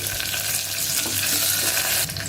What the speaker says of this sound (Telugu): చివరిగా కొద్దిగా కరివేపాకు వేసుకోవాలి